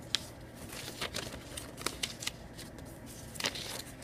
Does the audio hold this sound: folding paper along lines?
yes